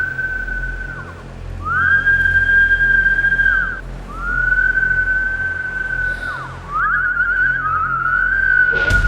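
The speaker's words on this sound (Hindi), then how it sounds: "उस कंपार्टमेंट में से एक सीटी की आवाज सुनाई दी" A shrill whistle comes from a train compartment in several long, sustained tones that bend and glide between notes over a low rumble. The drawn-out phrases are separated by short gaps.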